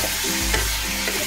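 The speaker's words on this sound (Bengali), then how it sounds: "একটু নেড়ে নিই।" Chicken and boiled vegetables get stirred in a frying pan: a brief burst of sizzling with a low thump and scrape partway through, close and steady.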